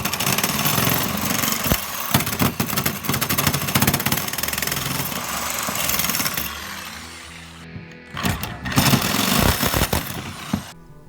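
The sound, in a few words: reciprocating saw (Sawzall) cutting near metal electrical box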